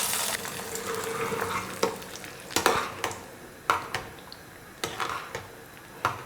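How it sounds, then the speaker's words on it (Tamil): A spoon stirs ghee-fried cashews and raisins into a pot of rava payasam, with soft bubbling and sizzle underneath and a series of sharp metallic taps of the spoon against the vessel. "முந்திரி திராட்சை எல்லாம் சேர்த்து நல்லா கலந்து கொடுத்துட்டேன்."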